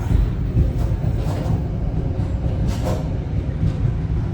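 Inside an economy-class train carriage in Indonesia, a heavy low rumble rolls on continuously, with faint rattles and clicks from the car riding over the rails and no voices.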